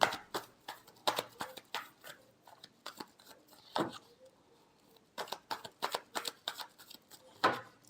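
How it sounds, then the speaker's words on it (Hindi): Tarot cards shuffled by hand at close range, a series of crisp riffling and sliding bursts with short pauses between them, no voices. "last shuffle"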